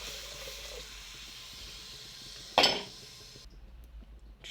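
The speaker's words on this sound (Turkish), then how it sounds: "Ve arkasından birazcık kemik suyu ilave ediyoruz." Bone broth splashes into a hot pot of lentil soup in one short, bright hissing pour that quickly fades into a quiet kitchen background.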